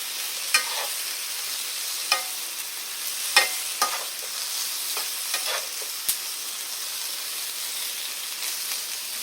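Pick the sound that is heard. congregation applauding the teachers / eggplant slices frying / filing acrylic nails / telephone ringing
eggplant slices frying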